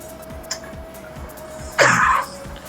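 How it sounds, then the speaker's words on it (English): One brief rough cough or throat-clear, fairly close and loud, stands out against a quiet background, with no talk around it. "Because I'm coughing hysterically"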